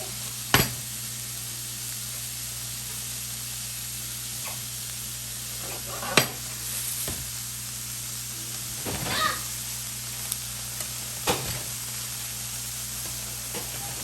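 Onions frying in a pan until translucent make a soft, continuous hiss under a steady hum, broken by a few scattered scrapes and clicks.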